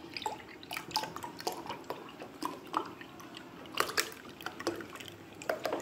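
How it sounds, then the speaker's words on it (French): Milk trickling and dripping into a pan for béchamel sauce, a soft uneven liquid patter with small splashes, fairly quiet and continuous, no voices. "je vais mettre du lait"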